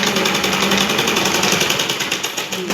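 A sewing machine runs continuously while stitching a folded four-inch strip of fabric, a close, steady, rapid mechanical chatter with no pauses.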